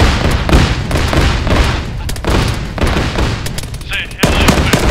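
Loud gunfire in the military video game Arma III, with rapid automatic bursts and single sharp shots repeating close up throughout.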